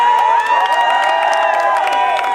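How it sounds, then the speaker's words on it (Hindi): Loud, steady crowd cheering and shouting at a Haryana awards show, a continuous roar of voices with whoops and some clapping and no pauses. "जोरदार तालियां।"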